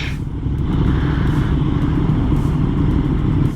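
A KTM Super Duke R motorcycle cruises along the Pacific Coast Highway, its engine a loud, steady, close rumble with wind noise over it, continuous and without talk.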